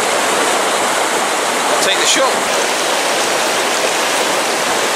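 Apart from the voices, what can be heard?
stream flowing with white foam in Plymbridge woods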